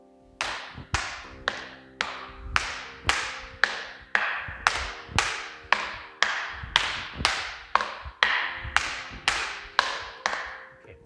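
Wooden fighting sticks clack back and forth in a steady partner drill, a long even series of sharp, ringing strikes roughly twice per second, close and loud with no talk.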